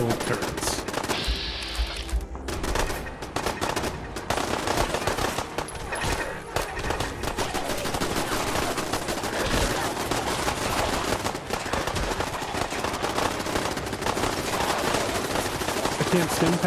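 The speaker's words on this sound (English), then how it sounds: "Just a bunch of pipe pistols backed up by big old turrets." Dense, loud gunfire from pipe pistols and automated turrets in the Fallout 4 video game, rapid bursts and overlapping shots rattling almost continuously throughout.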